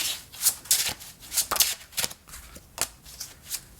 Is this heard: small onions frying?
no